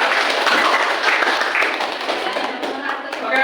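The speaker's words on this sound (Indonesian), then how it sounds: "tepuk tangan buat refleksinya" A classroom group claps briefly together in quick, dense applause, close and fairly loud, with voices mixed in.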